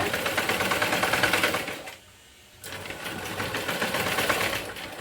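A sewing machine stitching a blouse neck piece, running in a fast, steady mechanical whir up close, pausing for about half a second before resuming at the same even pace, with no speech.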